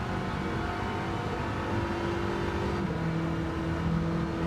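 Supercharged 1.1-litre Mini engine in Gran Turismo 7, a steady loud drone with a rising whine that holds throughout, close and continuous, with no talk over it.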